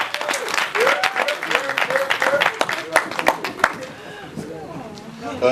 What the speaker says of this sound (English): Come on, give him a clap.